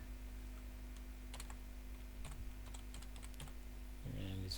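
Keys on a computer keyboard are tapped in short, irregular bursts while data is entered into an MS Access database, faint, close clicks over a low steady hum.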